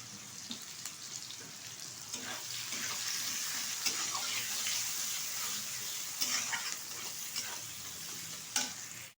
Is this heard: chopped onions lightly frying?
yes